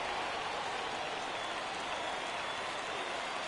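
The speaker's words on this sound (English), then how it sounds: "Crowd gets up for the 3-2." A baseball video game crowd rises and roars through a full-count pitch, a dense, continuous wash of cheering and applause that holds steady at full volume without voices standing out.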